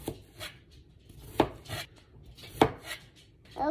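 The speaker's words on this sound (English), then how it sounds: "A big knife. To cut a big carrot." A big knife chops through a large carrot on a cutting board in a home kitchen, with several sharp, close thunks spaced about a second apart and quiet rustling in between.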